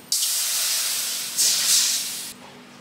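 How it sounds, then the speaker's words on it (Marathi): Water goes into a hot pan of ghee with cardamom powder, dry fruit and fennel, and it bursts into a loud, close hiss of steam. The hiss swells again as more water is poured, then cuts off abruptly. "आता आपल्याला ह्याच्यामध्ये पाणी घालून घ्यायचं आहे।"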